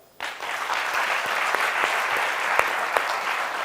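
An audience on a talk show applauds, a sudden burst of sustained clapping that starts sharply and carries on evenly with a few louder claps.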